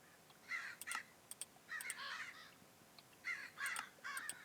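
Loud birds caw in a video game, harsh crow calls in clustered bursts of two or three, fairly close and clear over a quiet background, no talking.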